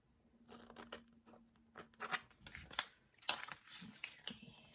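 Scissors snip through a vinyl name cutout from a canvas bag decoration, with a run of close, quiet, irregular cuts and rustling paper between them.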